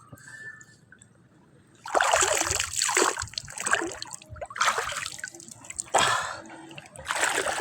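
A face is dunked repeatedly into seawater, making a series of loud, close splashing and sloshing bursts, about five in a row, separated by quieter gaps.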